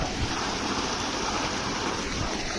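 Irrigation water runs through a wheat field in a steady, unbroken rush of broadband noise that stays loud and even throughout, with no talking.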